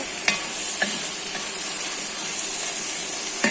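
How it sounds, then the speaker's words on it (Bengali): Green plantain and katla fish are sautéed in a pan under a constant hissing sizzle, with a few sharp scrapes as they are stirred. The sound is steady and close, with no speech. "আমি ভালো করে একটু কষাই নিতেছি"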